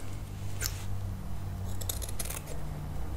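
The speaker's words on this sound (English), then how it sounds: "I'm going to cut some smaller circles here" Scissors cut fabric circles for a handmade peony flower, giving a few quick crisp snips close by over a quiet background, with no talking.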